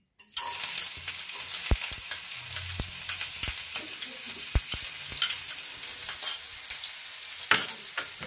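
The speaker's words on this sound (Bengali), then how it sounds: "পেঁয়াজগুলো আমি একটু তেলের মধ্যে ভেজে নিচ্ছি" Chopped onions fry in hot oil in a frying pan with a loud, steady sizzle and crackle, broken by occasional sharp pops and spatter, with no voice.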